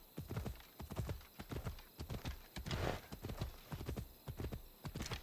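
Rhythmic hoofbeats of a horse in Assassin's Creed Odyssey clip-clop steadily at a trotting pace, close and clear, with a brief horse snort in the middle.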